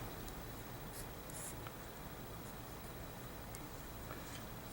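A math expression written on a surface with a pen, faint scratchy strokes in short bursts over a quiet room hiss, no talking.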